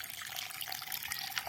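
Water runs steadily from a tap into a sink, a close hissing splash that holds even for the whole moment with no talk over it.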